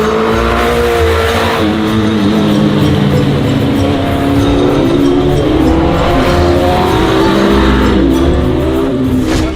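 A mini truck doing a burnout: a loud, sustained engine roar held at high revs with harsh tire squeal and rubbing noise running throughout, close by and steady.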